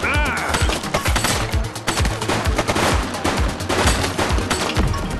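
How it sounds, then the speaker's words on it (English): Rapid gunfire in The Precinct video game, dense loud bursts of automatic shots crackling continuously at close range with no talking. "shooting!"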